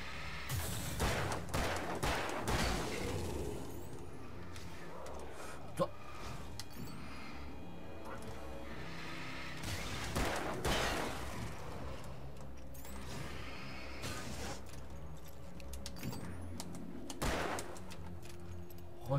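Repeated gunshots in the video game Alan Wake crack in bursts with mechanical clatter between them, fairly loud over a constant game background, and someone speaks at times.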